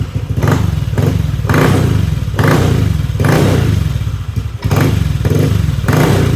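Motorcycle engine revving in repeated bursts after ECU tuning with larger fuel injectors fitted, each blip rising and falling in a steady pattern, loud and close with a low rumbling idle between revs and no talk.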